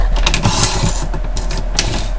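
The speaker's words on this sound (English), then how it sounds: "And you cut all the way down to your score line." A paper trimmer slices through envelope paper up to a score line, making a short, close mechanical run of scraping, clicking cuts over about two seconds.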